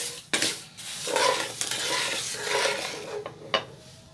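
Semolina halwa is stirred with sugar syrup in a pan, giving a loud, continuous wet sizzle and scraping with a few sharp clinks of the spoon against the metal.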